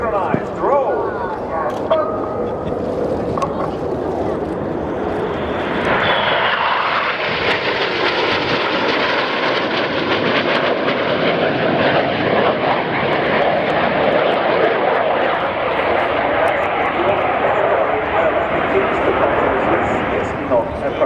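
Display aircraft fly a synchronized roll at the RIAT airshow: a loud, continuous engine roar swells and holds for the whole stretch, with a commentator talking over it.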